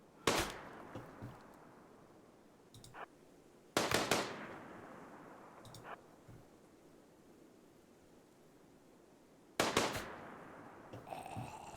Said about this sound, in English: That's some good shooting, Mizuki.